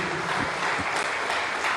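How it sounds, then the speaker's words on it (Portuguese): Brief burst of congregation applause in a church during a Sunday morning service, a dense, steady clapping that fills the whole moment with no voices. "Podemos aplaudir o Espírito Santo?"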